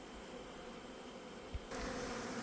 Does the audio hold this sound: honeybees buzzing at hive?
yes